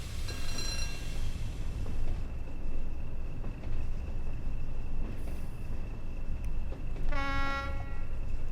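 A Class 20 locomotive horn in Train Sim World 2 blares twice, once briefly at the start and again near the end, over a steady rumbling of a moving train.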